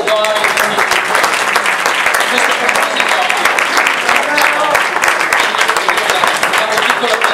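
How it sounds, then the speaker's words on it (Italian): Loud, dense applause from a large crowd at an award plaque ceremony, sustained and even throughout, with faint voices mixed into the clapping. "Romeo vorrei rivolgere un applauso perché è lui il coordinatore."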